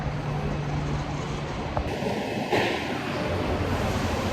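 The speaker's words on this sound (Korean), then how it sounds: "기차야 오늘 하루도 고생 많았어" A train sits in a station late at night at the end of its run, with a steady low rumble and hum, a short tonal signal partway through, and faint voices in the background.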